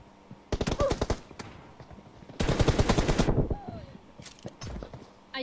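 Gunfire in PUBG Mobile during a team deathmatch: two loud rapid bursts of automatic fire, the second longer, with a few scattered single shots between, close and sharp against quieter game background.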